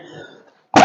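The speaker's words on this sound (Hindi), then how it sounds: "खांसी आ रही कई दिनों से" A short, harsh cough bursts out abruptly at the very end after a moment of near silence, close and loud, with a throaty rasp.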